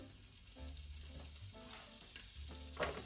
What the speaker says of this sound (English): Let that saute a little bit.